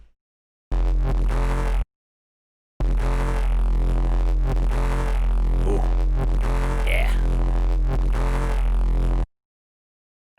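A wavetable synthesizer with distortion added plays a buzzy, harmonically rich sustained tone with shifting timbre, cutting in and out in two blocks separated by a short silence, with no talking.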